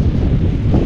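Strong habagat monsoon wind buffets the microphone beside a fishpond, a brief, loud, low roaring rumble.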